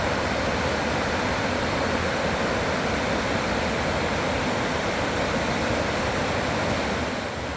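Jenny Creek in early January flows as a dense, constant rushing roar of water, steady and full throughout, with no voices.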